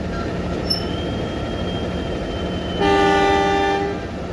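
Train passing another at Bumi Waluya station in Indonesia: a steady loud rolling rumble of wheels and carriages, joined partway through by sustained bright tonal squeal or horn notes.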